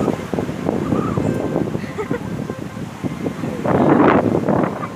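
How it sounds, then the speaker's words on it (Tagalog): Strong gusting wind buffets the microphone on Mount Cristobal, a cold, cloudy mountain summit, roaring steadily throughout and swelling louder near the end, with people talking underneath. "Grabe, lakas ng hangin dito"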